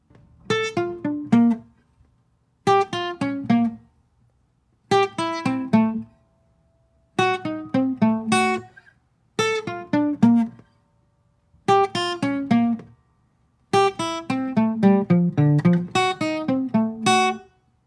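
A guitar plays the chord part of a song in short bursts of plucked and strummed notes separated by brief silences, ending with a longer, busier phrase, clean and close with no talk.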